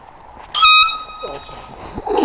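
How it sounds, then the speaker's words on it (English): An air horn blasts straight at a disc golfer standing on the tee pad of a disc golf course, one loud, close, sustained toot lasting about a quarter second, followed by muffled voices and outdoor noise. "get that air horn ready, point it at me"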